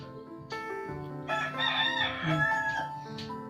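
Roosters crow one after another, their loud cock-a-doodle-doos overlapping with some clucking nearby, no talking.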